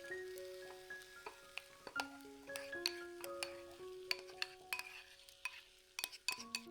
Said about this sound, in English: Keep stirring gently so the texture stays smooth and nothing sticks to the pan